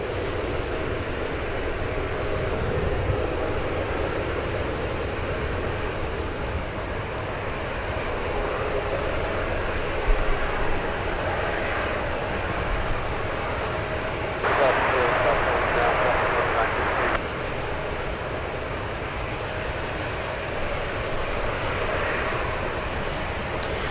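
An Embraer E-175 jet lining up on runway 1 left at San Francisco International Airport gives off a steady, distant engine roar that holds at a constant level, with a brief louder surge partway through.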